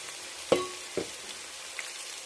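Fish curry masala fries with ginger paste in a pan, giving a soft steady sizzle broken by two sharp clinks of a spoon near the start.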